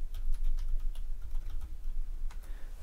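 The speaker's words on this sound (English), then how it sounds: "type in my password" Password typed on a computer keyboard at a CentOS 8 Linux login screen, a quick irregular run of close, crisp key clicks over a steady low hum, with no talk.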